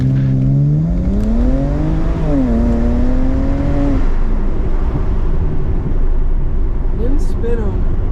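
A BMW 335i fitted with a VRSF intercooler launches hard, its engine note climbing through a quick rev before easing off, loud and close, with a person talking over it.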